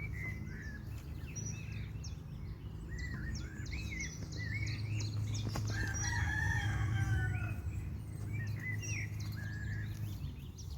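A rooster crows and chickens cluck and call repeatedly in an outdoor garden where potatoes are being planted in lazy beds, the birds fairly close over a steady low rumble, with no talk.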